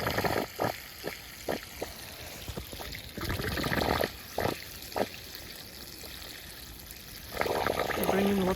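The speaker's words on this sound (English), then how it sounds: "Bringing water by gravity." Water from a mine running by gravity through hoses, a steady trickling and pouring flow with brief splashy bursts, heard fairly faint and close outdoors.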